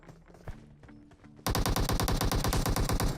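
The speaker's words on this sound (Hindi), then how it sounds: "ये प्री फायर दिया मैंने" Rapid automatic gunfire in the PUBG Mobile battle game, a loud sustained burst of closely spaced shots that starts abruptly after a quieter stretch of game sounds and continues to the end.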